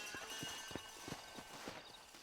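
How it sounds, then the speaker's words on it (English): Horse hooves in the Red Dead Redemption video game clip-clop in an even, regular gait of about seven soft beats, faint and unaccompanied. "Oh, I don't want to ride the horse."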